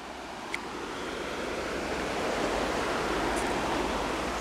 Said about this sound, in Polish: tutaj pomiędzy drzewami płynie sobie rzeka Podgórna